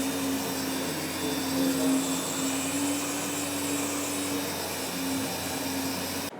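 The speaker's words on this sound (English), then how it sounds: "this is the new to world M12 Fuel 6-inch random orbital sanders" A Milwaukee M12 Fuel 6-inch random orbital sander running on a panel at a tool dealer expo, a steady whirring drone held for several seconds with no talk.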